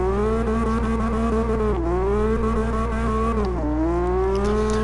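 A drifting car in the CarX Drift Racing game holds a loud, steady engine note that swells and dips with throttle changes, with two pitch drops as it shifts and keeps sliding sideways.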